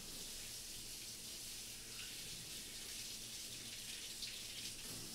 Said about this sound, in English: Water run for a solid like 5 minutes so it actually heats up